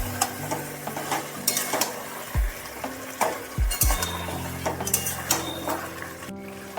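Spatula scraping and stirring chicken pulao mixture with slit green chilies and onion paste in a pan, repeated clanks and scrapes over a soft sizzle, close and steady, no voices.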